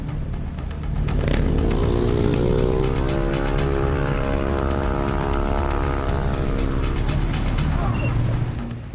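A motorcycle engine in an illegal night-time street race in Jakarta revs and climbs in pitch, loud and close, holding a strained whine before easing off, with a voice speaking over it.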